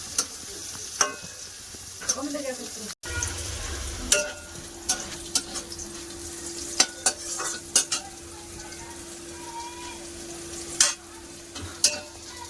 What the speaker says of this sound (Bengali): উচ্ছা ভাজা করতেছি